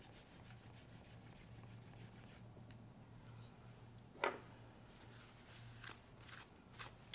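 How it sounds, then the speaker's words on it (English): A Lie-Nielsen low angle jack plane iron is rubbed on a sharpening stone to add camber, with hand pressure varied along the strokes. Faint, steady gritty rubbing carries a few sharper scraping strokes, close and without any talk. "I'm just varying the pressure on the blade with my hand as I rub it on the stone."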